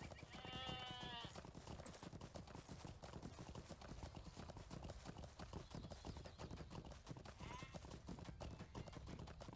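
Horse hooves clip-clopping steadily while riding in the Lord of the Rings Online video game, a continuous close rhythmic trot with brief neighs near the start and again later.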